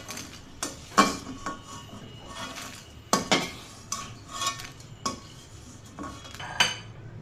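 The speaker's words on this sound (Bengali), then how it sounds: "প্রথমে এখানে মরিচগুলোকে ভেজে নিচ্ছি।" Chilies are lightly fried in a pan as the first step of a dried-fish shutki bhorta. Metal spatula clinks and scrapes sound at an uneven rhythm over a faint background sizzle, close up with no speech.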